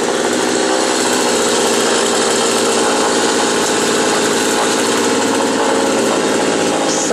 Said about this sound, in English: sawing a bunch of trees down